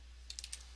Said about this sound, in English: you want to come up to your address bar and you want to type in